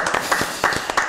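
Scattered clapping from an audience, a handful of sharp irregular claps close by with a faint voice underneath.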